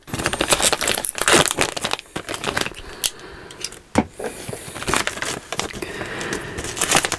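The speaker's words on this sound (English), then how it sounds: "So you're gonna have to be very careful and just cut it open down here" Plastic packaging being cut open, a close and continuous crinkling and scraping with sharp snips and cracks at intervals, while the contents are freed from the packaging.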